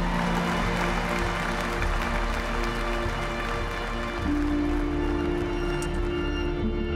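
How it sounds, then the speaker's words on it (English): A live audience applauds at the Miss South Africa 2021 finale, a dense, continuous roar of many clapping hands that holds steady for several seconds with no speech over it. "Let's keep the applause going, come on."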